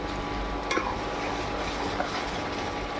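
Ground spice paste being sautéed in oil in a pan, a soft continuous sizzle with a couple of faint clinks from stirring, with no talk.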